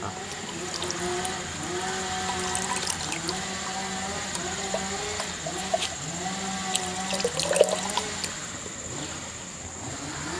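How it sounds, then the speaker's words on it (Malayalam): Moina live-food culture is poured into a container of water, giving a continuous soft splashing and trickling that runs throughout at a moderate level. "ഇനി നമ്മൾ ജസ്റ്റ് ഒന്ന് ഇതിന്ന് ഈ വെള്ളത്തിലേക്ക് ഒന്ന് അങ്ങനെ ഒഴിച്ചു കൊടുക്കുക"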